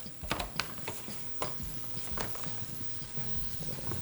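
Butter and fresh herbs with a bouquet garni sizzle steadily in a hot pan before veal shanks are browned for osso buco, with a low continuous frying hiss punctuated by several sharp crackles and stirring clatters, close and alone.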